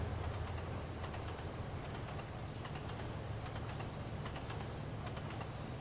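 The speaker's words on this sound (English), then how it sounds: "There's another train coming northbound on the opposing rail" A train in a train simulator game rolls past on the opposing rail, its quiet, steady rumble broken by faint, rapid clicking from the wheels.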